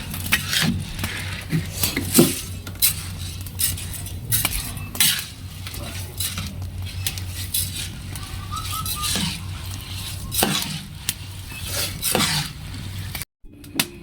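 A metal spoon stirs red sorghum in a cooking pot, giving repeated clinks and scrapes against the pot over a low steady hum, close and fairly loud.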